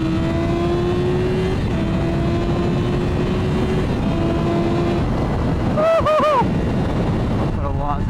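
Yamaha R6 motorcycle engine holding a steady drone, then a sharp burst of rapid revving near the end as it accelerates, with wind rush throughout.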